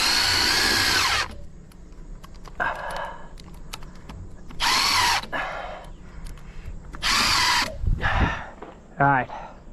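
A power drill drives screws during a build of a backyard swimming pool. The motor whines in three separate loud bursts, with quieter gaps and background noise between them.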